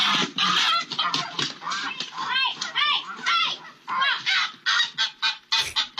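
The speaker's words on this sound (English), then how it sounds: "Listen to an eagle attack a family's pet goose" A family's pet goose honks loudly and repeatedly during an eagle attack, harsh close-up blasts coming in rapid irregular bursts, with frantic shouting voices mixed in.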